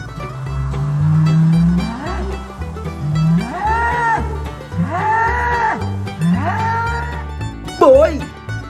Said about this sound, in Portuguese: Boi.